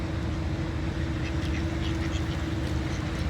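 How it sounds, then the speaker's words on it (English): Mallard ducks quack amid steady broadband noise outdoors at Dawlish, with a few faint calls scattered through a continuous wash of wind or water sound; no one speaks. "Here's our friends the mallards, which we will give them a little bit of a treat."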